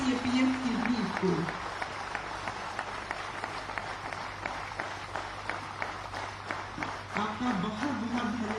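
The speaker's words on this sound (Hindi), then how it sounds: "जोरदार तालियों से अभिनंदित करें हमारे इस आयुष्मान CAPF की वीर को" An audience at a government launch event for CAPF personnel stands and applauds, a steady patter of many hands clapping that rises and falls, with a voice speaking over it at the start and end.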